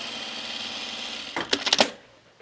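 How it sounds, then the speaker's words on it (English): An overlocker, or serger, stitches the seams of a blouse in several quick close bursts of whirring, a few pulses in under a second, after a steady room hum. It stops abruptly. "I'm using the overlocker or the serger"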